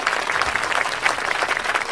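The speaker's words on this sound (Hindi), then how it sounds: "मेरा मतलब तालियां" Steady applause from a school audience at a Teachers' Day comedy and dance celebration, dense clapping filling the room at an even level throughout, with no voices over it.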